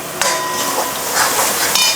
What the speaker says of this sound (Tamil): இந்த எண்ணெய் நல்லா காஞ்சி அதில் நம்ம ஏதாவது போடுவோம் பாருங்கள், இந்த மாதிரி அப்போ கொதிக்கும் பாருங்கள்.